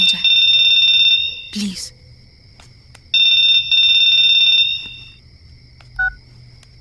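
Telephone ringing indoors in a Bollywood film scene: two long electronic ring bursts separated by a pause, loud and near, with a brief spoken word between them and a short beep near the end.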